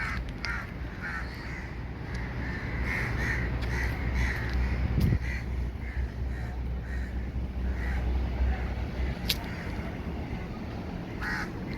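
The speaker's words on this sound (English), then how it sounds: "Lots of crows around here." Crows cawing repeatedly near a small roadside spirit house shrine in Penang, their harsh calls rising over a steady outdoor hum of wind and distant traffic.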